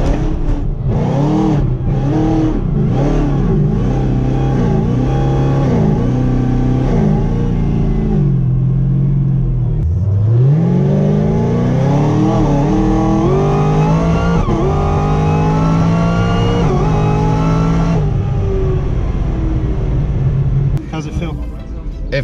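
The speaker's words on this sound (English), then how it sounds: "Partial burnout, just wanna see how it feels on a prepped track." A nine-second drag racing street car doing a partial burnout and launching on a prepped eighth-mile track, its engine revving in rising sweeps and pulling hard through the gears, loud and close, with talk over the top.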